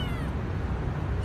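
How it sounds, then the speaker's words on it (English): A stray black kitten meows continuously up close, a strained, wavering cry that fills the short moment with no other sounds. "Oh, little black kitty."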